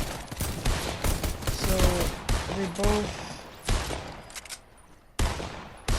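Gunfire from a video game: dense bursts of rapid shots crackle in clusters with brief pauses between them, and a faint voice speaks once underneath.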